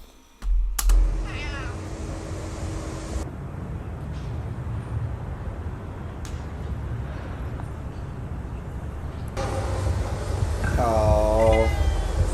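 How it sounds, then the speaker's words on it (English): A cat meows several times on a street in an Amsterdam neighbourhood, with short clear calls near the start and a louder run of meows near the end over steady outdoor background noise. "This cat is around."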